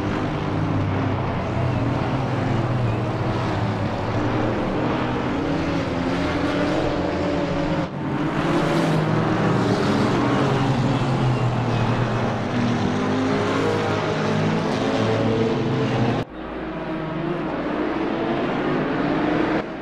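GT4 race cars from Assetto Corsa Competizione roar together at a race start on the Hungaroring, a loud, continuous pack of engines with rising revs and brief dips near 8 and 16 seconds.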